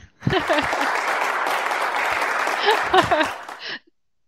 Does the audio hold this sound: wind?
no